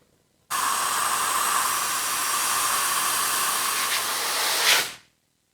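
Brake cleaner sprayed from an aerosol can onto car clutch parts, one continuous close hiss of about four and a half seconds that starts abruptly and tails off at the end.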